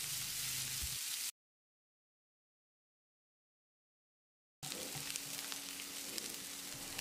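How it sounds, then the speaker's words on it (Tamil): Chopped onion frying in a pan for chutney, a close, even sizzle that cuts out into a few seconds of silence and then resumes. "வெங்காயத்தை நல்லா பொன்னிறமாக வதக்கணும்."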